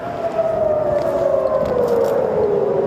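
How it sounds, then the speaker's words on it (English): A wailing air raid siren warning of an incoming missile, loud and steady, its pitch sliding slowly downward against a rough background rumble. "Then the sirens start, signalling the missile is close."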